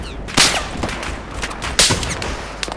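Battlefield 4 gunfire in bursts: two sharp loud shots stand out, with scattered quieter shots between them.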